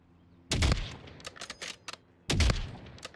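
Two loud, close sniper rifle shots ring out in the Warzone video game, about two seconds apart, each a sharp crack with a booming low tail. Quieter game noises fill the gap between them.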